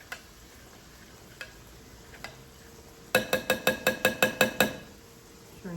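A spoon scrapes and taps around a pan of Alfredo sauce: a few isolated clicks, then a quick run of about nine evenly spaced, fairly loud taps over a soft steady background hiss; no talking.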